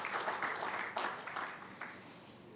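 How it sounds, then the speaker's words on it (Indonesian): A church congregation applauds during a Sunday service, a broad burst of many hands clapping that starts full and gradually thins and fades away. "Yang setuju beri tepuk tangan bagi Tuhan Yesus."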